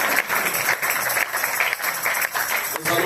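Congregation applauding during a thanksgiving church service for two pastors, a steady, dense wash of clapping that runs the whole time with brief dips, voices mixed in.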